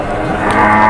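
A cow moos once in a long, loud, drawn-out low call, close by and alone.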